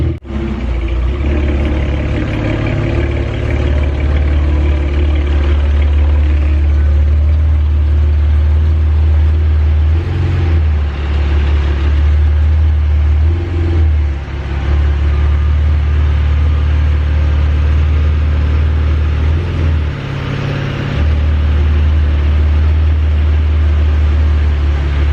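A car engine runs steadily at idle as the car is pulled out, a continuous low rumble with small swells in level throughout and no talk.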